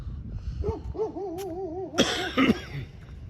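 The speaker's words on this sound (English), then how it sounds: "I'm just gonna be coughing and hacking tonight." A few harsh coughs burst out near the end, preceded by a wavering hooting tone, close and moderately loud.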